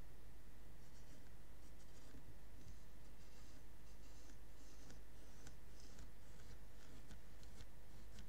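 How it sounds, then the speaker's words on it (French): A pencil scratches steadily around a label laid on cardstock, with short repeated strokes that sound faint and close against a soft background hiss, with no voices. "vous la placez sur un cardstock pour en dessiner le tour. Faites le tour avec votre crayon."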